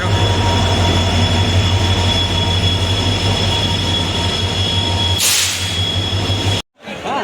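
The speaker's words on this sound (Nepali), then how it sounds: "ट्रेन आयो मेरो ट्रेन आयो" A train pulls in at platform 2 of a busy railway station, its steady loud rumble and wheel hum filling the scene, with a burst of hiss near the end before a brief drop.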